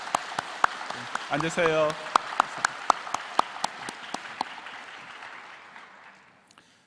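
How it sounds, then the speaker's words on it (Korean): A church congregation claps in welcome during a Sunday worship service, with steady, close applause. A voice speaks briefly in the middle, then the clapping gradually thins and fades out. "환영의 박수를 하겠습니다"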